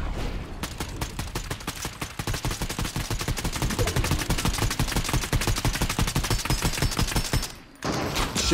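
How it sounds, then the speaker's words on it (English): Rapid gunfire in the video game Fortnite, a dense, continuous burst of automatic shots lasting most of the span, loud and close, broken by a brief gap near the end before firing resumes. "Shoot the floor! Shoot the floor!"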